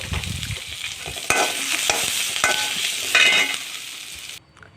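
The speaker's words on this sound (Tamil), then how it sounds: "நல்லா போட்டு நல்லா வதக்கி எடுத்து வச்சுக்கலாம் நல்லா வெங்காயம் நல்லா பச்சை வாசம் போகிற அளவுக்கு வதங்கட்டும்" Onions sautéing in hot oil in a pan, a steady close sizzle with scraping stirs and a few sharp clicks of the spoon against the pan, ending abruptly with no talk.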